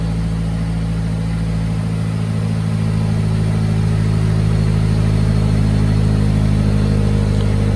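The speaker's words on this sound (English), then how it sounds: "get this last car cold start up on this 2010 Mazda Speed 3." A 2010 Mazda Speed 3 with its stock exhaust idles after a cold start, a loud, close, steady engine drone with a deep rumble holding evenly throughout.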